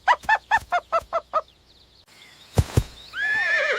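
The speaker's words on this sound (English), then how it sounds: "What fast animal makes this sound? 3, 2, 1. Horse!" A horse gives a loud, close whinny made of a rapid series of descending pulses, then after a short pause come two sharp thuds and a sustained, wavering neigh.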